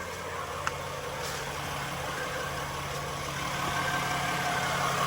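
A 2011 Nissan Murano engine idles just after an oil change, giving a quiet, even hum that runs steadily throughout with no talking.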